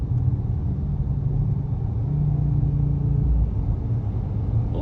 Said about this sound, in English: Ooh, the downshift sound.